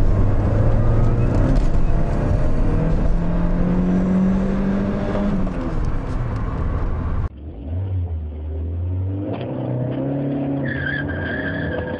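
A car engine revs hard and accelerates, pitch climbing through gears with tire noise, loud and close throughout.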